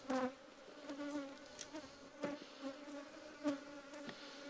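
Honeybees hum steadily at an opened beehive, a faint continuous buzz with occasional sharper passes of individual bees close by, and no talking.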